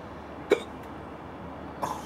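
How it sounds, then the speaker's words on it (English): Two short, sharp hiccups from a man about a second apart, each a quick gulping catch, heard close against a quiet background without speech. "I've got hiccups as well."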